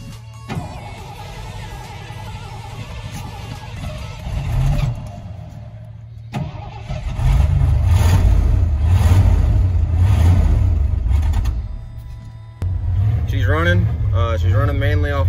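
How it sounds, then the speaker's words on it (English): Engine of a lifted Ford Bullnose truck with a dirty carburetor sputtering to life and revving in loud, sustained bursts before settling to a rough idle, with voices talking over it. "She's running mainly off my foot on the gas pedal, but she is running."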